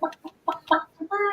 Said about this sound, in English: I'm going to step out and take care of my chickens.